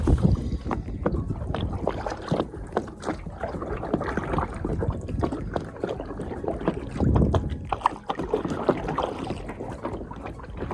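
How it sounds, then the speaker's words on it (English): Paddles dip and pull through the water beside a sailboat, steady rhythmic splashes close to the microphone with wind noise buffeting over them. "Why are you paddling?"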